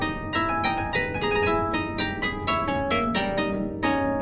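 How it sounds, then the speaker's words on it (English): Keyboard instrument plays a passage from Bach's third Partita, with rapid sixteenth-note swirls over a moving bass line; a dense, continuous stream of bright, closely miked notes with no talking. "he actually adds in these lovely little 16th note swirls that sound like this"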